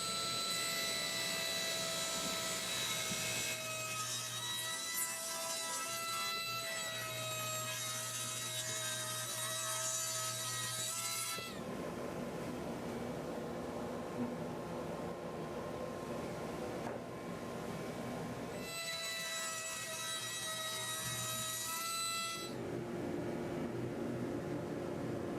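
A table saw cuts wooden drum staves in long passes, each a loud whining cut lasting several seconds, with the idling motor hum between them and no talking.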